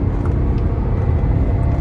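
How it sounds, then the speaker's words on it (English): A BMW car accelerates at full throttle in India, its engine note a loud continuous low roar that holds steady and close throughout, with no talking. "If I just floor it, this car really flies off"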